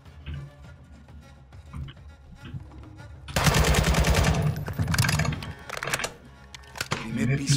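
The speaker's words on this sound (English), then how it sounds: "Who the hell's shooting at me?" Rapid automatic gunfire from a Modern Warfare 2022 campaign battle erupts in loud bursts after a quieter start, with someone talking and exclaiming over and between the shots.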